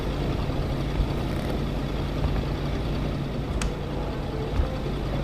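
Truck engine in the snowy video game Kona, a loud, steady low rumble with a faint hum, droning continuously for several seconds with no speech.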